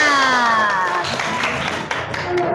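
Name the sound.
children clapping hands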